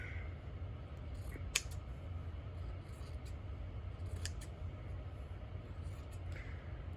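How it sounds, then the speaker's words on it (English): Scissors cutting through two layers of t-shirt fabric, two or three quiet crisp snips spread over several seconds against a faint background hiss. "I am attempting to cut through both layers at once."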